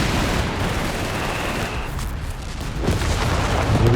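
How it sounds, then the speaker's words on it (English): Artillery shells landing in a Company of Heroes 3 battle, a continuous rumbling barrage of booms and gunfire crackle, steady and loud without letup. "A lot of artillery coming down this area though."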